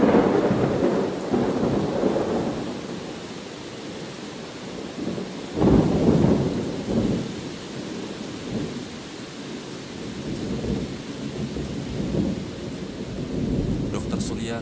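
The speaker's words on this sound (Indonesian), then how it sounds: "hujan masih deras dan suara gemuruh petir mengiringi perjalanan mereka" Heavy rain pours steadily on a stormy night while deep thunder rumbles and rolls, swelling loudest midway through and fading back to a low growl beneath the downpour.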